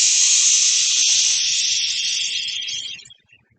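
A qigong liver-cleansing exhale: one steady, breathy hiss held for about three seconds before it trails off into quiet, close and unaccompanied.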